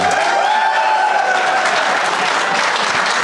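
Comedy podcast audience at a live taping bursts into steady, dense applause that fills the whole moment at close range, with a few faint voices mixed in.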